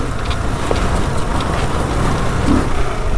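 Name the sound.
Kawasaki KLR650 motorcycle taking off in second gear on dirt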